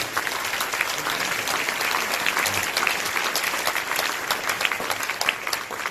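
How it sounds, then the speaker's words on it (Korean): A hall audience at a 2020 New Year gathering of the Christian businessmen's association in Korea applauds in one sustained, even burst of many hands clapping, fairly distant, with no talk over it. "이분들의 수고에 감사드리는 큰 박수를 한번 올리겠습니다"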